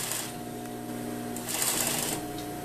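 A sewing machine tacks bias tape around a tailored sleeve head, its motor whirring in a steady, fast run with a brief pause and slight surge partway through, close up and alone.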